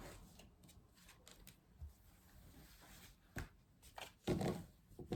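Tarot cards shuffled by hand for a cross spread, producing faint, scattered riffling clicks and soft slaps that come in short bursts in a quiet room.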